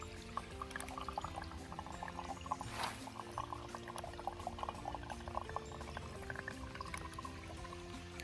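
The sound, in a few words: filtering water with a Sawyer Squeeze filter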